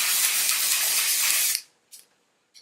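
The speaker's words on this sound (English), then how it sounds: "shake it up a little first and then spray it on your roots" A steady aerosol spray of dry shampoo onto hair roots hisses for about a second and a half, followed by two brief, short bursts.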